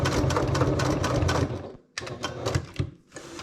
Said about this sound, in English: we're going to the sewing machine and we're going to base stitch our D-ring tab onto our zipper panel